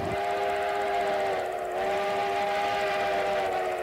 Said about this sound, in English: the train comes to a stop in an open field